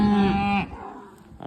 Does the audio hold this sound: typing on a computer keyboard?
no